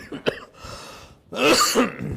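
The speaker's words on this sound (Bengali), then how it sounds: "আপনার তো প্রচুর কাশি হচ্ছে" A man clears his throat and coughs during a tense conversation in a Bangla drama, a short sharp cough burst followed by a louder, rougher throat-clearing rasp, close and alone.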